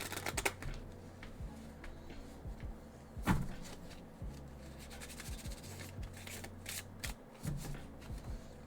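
Oracle cards being shuffled by hand, a close, crisp run of riffling flutters and soft slaps and taps as the deck is split and pushed together, with brief pauses between shuffles.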